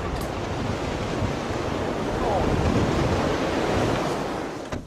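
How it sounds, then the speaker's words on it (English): Strong wind roars steadily outdoors, a broad rushing noise that swells slightly midway, loud and continuous with no voices. "It's seriously windy"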